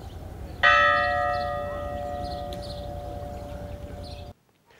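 A local church bell tolls mournfully during a funeral ceremony, one loud struck note ringing out and decaying slowly over a low background hum before cutting off.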